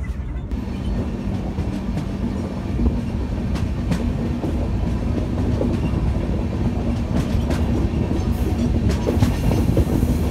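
The Tamralipta Express rolls along the rails near Tamluk, a continuous loud rumble with rhythmic clickety-clack of wheels over rail joints and a steady hum throughout, no voices.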